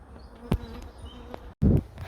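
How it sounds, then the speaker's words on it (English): Bees from a hive living inside a brick wall buzz in short bursts, with a louder close pass near the end after a brief dropout, and no voices. "there's the bulk of the bees, that brighter patch there"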